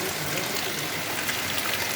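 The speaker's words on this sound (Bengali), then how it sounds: "ভালোই মুষলধারে বৃষ্টিটা শুরু হয়েছে" Heavy rain pours steadily over a village in Nagpur, a dense, even hiss of drops on surfaces that holds at the same level throughout, with no talk.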